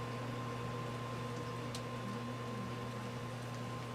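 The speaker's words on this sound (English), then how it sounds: "Flip the plate around because this microwave does not have a turntable." A microwave oven without a turntable heats a plate of New Year's Eve nachos, giving off a steady, close electrical hum with a constant low drone and no break.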